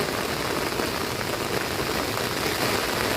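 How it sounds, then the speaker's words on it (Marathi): Dense, steady heavy rain noise fills the whole stretch by a river, a constant broadband hiss with no pauses and no voices. "जबरदस्त पाऊस आलेला आहे"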